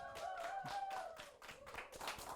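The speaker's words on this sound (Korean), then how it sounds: "여러분 큰 박수로 맞아주십시오" An audience at a volunteering talk event greets a speaker with brief, scattered clapping that sounds fairly faint and sparse.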